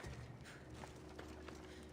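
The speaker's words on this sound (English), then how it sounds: "You can tell by the horses." Horse hooves clatter in Assassin's Creed Odyssey, a steady galloping clip-clop over a continuous low game rumble, moderately distant and not very loud.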